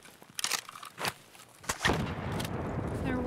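In a video game, a grenade bursts with a heavy rumbling boom that rolls on and fades slowly, preceded by a few sharp distant gunshot pops, with brief talk early on.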